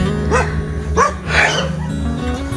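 Several dogs bark at a rural Philippine house where a visitor calls at the door, with sharp barks and yips in bursts over a steady low hum, fairly close.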